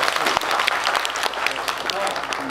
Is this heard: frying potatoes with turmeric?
no